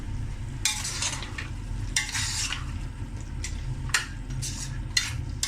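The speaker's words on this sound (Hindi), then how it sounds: "अब मैं ये बारीक बारीक जो मैंने आलू कट किए हैं" Finely diced potatoes tossed into a pan of frying cluster beans, a low steady sizzle under sharp intermittent scrapes and clinks of a metal spoon against the pan.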